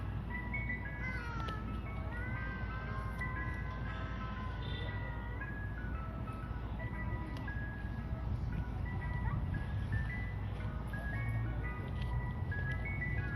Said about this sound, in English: that ice cream truck is bumping right now.